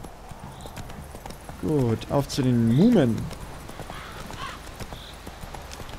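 Horse hooves clip-clop in The Witcher 3, a steady run of beats under a man's short spoken line and a brief shout.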